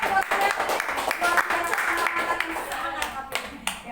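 Clapping from a group at a teachers' training session, irregular hand claps layered over one another, fairly close and mixed with voices talking through it.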